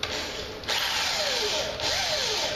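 Power drill fitted with an inch-size boring bit cutting into wood while building a fishing rod rack, a loud, steady whine that runs continuously with two brief dips, close up and with no talk.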